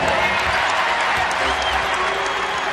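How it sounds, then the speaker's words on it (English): Basketball arena crowd in a Denver Nuggets versus Cleveland Cavaliers game, cheering and applauding in a dense, steady roar that fills the whole moment. "The crowd's starting to get into it."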